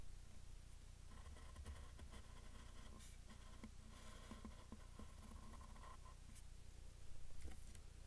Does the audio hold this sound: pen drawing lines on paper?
yes